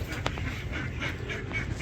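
Ducks with clipped wings quack repeatedly close by, several short calls overlapping against a noisy outdoor background.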